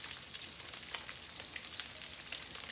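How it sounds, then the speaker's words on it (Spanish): Chopped hot dogs frying in a pan, a soft steady sizzle with faint crackles and pops, quiet and unbroken, no talking. "aunque estén así cruditos, como que los vas a freír"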